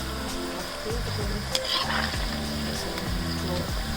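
Pakoras bubble and sizzle in hot mustard oil, a steady close crackling fry with a faint clink of utensils partway through and no talking.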